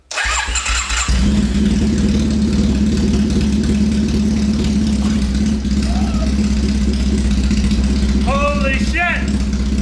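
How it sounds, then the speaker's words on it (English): A Triumph car engine, just after an oil change, cranks and catches at about one second, then settles into a loud, steady, slightly sputtering idle close by, with brief exclaiming voices near the end. "I decided to fire up the Triumph for the first time."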